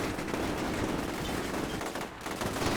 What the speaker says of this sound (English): a second Syrian position in the second floor of a building opens fire